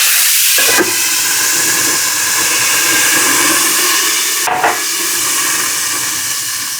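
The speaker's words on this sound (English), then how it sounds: "I wanna create a little bit of steam, so a little bit of water here, a cover that will fit over the pan." Steady broadband hiss of water steaming and sizzling under a lid in a hot pan of zucchini, loud and continuous, with two brief sharper bursts partway through.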